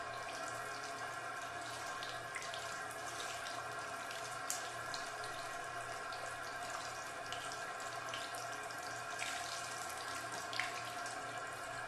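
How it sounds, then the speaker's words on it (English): Tap water runs steadily over a Huawei Nova 3 smartphone with no cover and open ports, a faint continuous splashing and trickling with a few small drips and knocks. "we are going to use this tap water for this water test"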